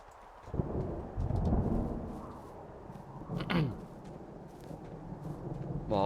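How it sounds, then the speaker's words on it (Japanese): Thunderstorm ambience in the video game Firewatch: low rumbling thunder rolls in waves, one sharper crack midway, with rain hiss beneath and a faint rising tone at the end. "まあ嵐が来てるから早く行くか。"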